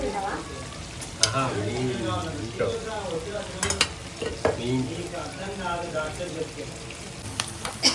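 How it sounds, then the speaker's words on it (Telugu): Chopped onions go into heated oil in a home kitchen cooking chicken, mutton and dal, giving a steady close sizzle with stirring scrapes, while voices talk over the frying. "ఆయిల్ అయితే హీట్ అయింది ఆనియన్స్ వేసేసాను"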